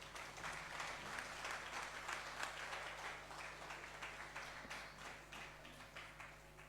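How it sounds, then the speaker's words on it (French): A church congregation applauds together in a steady, rapid patter of many hands that carries on for several seconds, heard from some distance over a low hum. "Applaudis Jésus bien-aimé."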